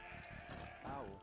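A sheep bleats in the video game Age of Empires II, a short wavering cry near the end over quiet game sounds and faint talk.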